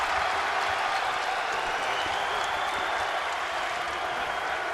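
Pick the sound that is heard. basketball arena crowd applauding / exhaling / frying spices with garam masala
basketball arena crowd applauding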